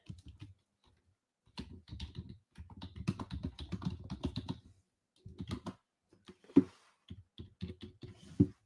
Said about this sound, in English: Sorry, I'm just typing here.